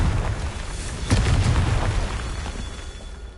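A fiery spell blast from the Hogwarts Legacy wizard game, a single loud boom erupting about a second in and rumbling off over the next couple of seconds amid dense low game rumble.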